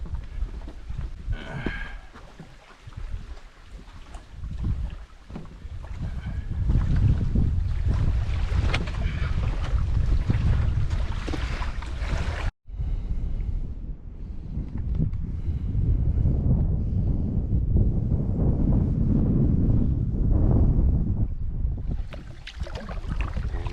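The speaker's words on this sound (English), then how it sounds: "Oh, got some wind." Gusty outdoor wind buffets the microphone during a canoe trip in Algonquin Park, a loud low rumble that swells and persists for most of the span with a brief dropout midway.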